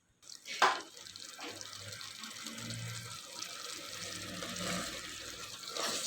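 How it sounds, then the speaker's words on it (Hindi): About a cup of water is poured into a cooking pot of sauce, making a steady, soft splashing pour that runs continuously for several seconds at close range. "1 कप पानी शामिल करेंगे।"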